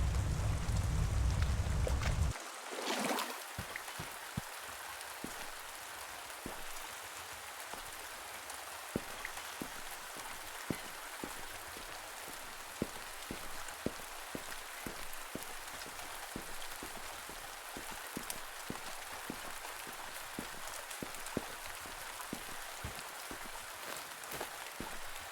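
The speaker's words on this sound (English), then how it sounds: "Did want to see how the water droplets, the raindrops, it sounded like in the water" Raindrops fall into water in the video game A Merchant's Promise: a soft, continuous patter with scattered faint plinks, preceded by a brief heavier splash-like burst at the start, all quiet and without voices.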